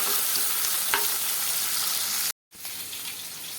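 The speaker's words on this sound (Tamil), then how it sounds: "வெங்காயம் நல்லா வதங்கட்டும்." Small chopped onions sauté in hot oil in a pan for crab gravy, a steady close sizzle with a brief stir, cut by a short silent break before the frying resumes.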